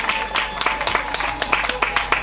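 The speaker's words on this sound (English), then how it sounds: "Give them another big round of applause" Audience applause at a peace concert in Jamaica, a crowd clapping in quick, uneven bursts, loud and close, with a voice talking faintly underneath.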